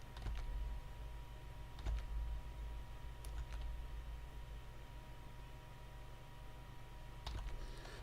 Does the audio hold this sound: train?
no